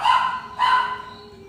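A pet dog gives two loud, close barks in quick succession, the second trailing into a short whine, with nobody talking.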